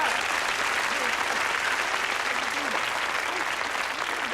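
Audience applauding a magic trick, a dense, even wash of clapping from many hands held steadily at close range for several seconds.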